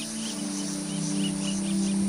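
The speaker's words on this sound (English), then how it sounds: "the noises in the jungle are just incredible" Amazon jungle ambience, a dense steady insect drone with repeating high chirps, a constant layered background with no talk.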